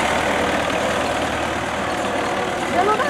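An MTZ-80 tractor engine runs with a steady, dense rumble that stays continuous and close throughout.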